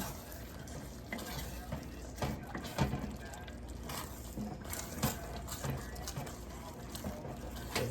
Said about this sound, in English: And just scrape, just to make sure the bottom of this isn't sticking.